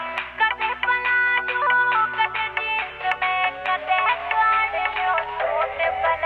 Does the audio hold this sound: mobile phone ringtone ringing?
yes